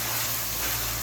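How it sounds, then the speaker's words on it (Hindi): Mutton with spices fries in a pot, a brief, dense and even hiss of sizzling close by with no other sounds. "अब 1 से 2 मिनट इस तरीके से मैं इसको गोश्त को फ्राई करूंगी ताकि जितने मसाले हैं इसके अंदर शामिल हो जाएं"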